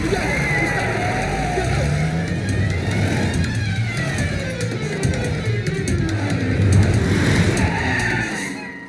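A car engine revs and roars through a loud comedy scene, with tires skidding and the motor accelerating away at close range, sustained under loud background sound.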